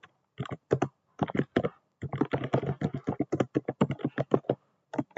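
A name is entered on a computer keyboard in close, crisp bursts of rapid keystrokes, separated by short pauses and a longer gap near the start.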